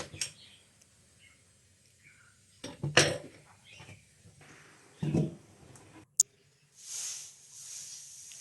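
Soft clunks and scrapes as pumpkin slices drop into a pot, a few scattered knocks and a brief clatter, close by with quiet pauses between.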